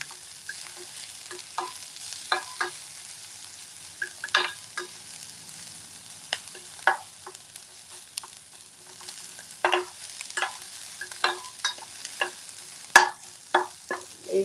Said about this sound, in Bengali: আমি অল্প তেলটা একটু সতে করে নিচ্ছি।